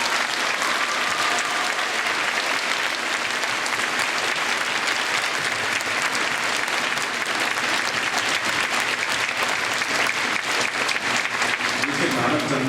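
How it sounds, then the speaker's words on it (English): A school assembly applauds faculty sponsors with loud, dense, sustained clapping that fills the hall from start to finish, with no talk over it. "Would Mr. Blackburn, Mr. Moody, and Ms. Hines please stand for a round of applause?"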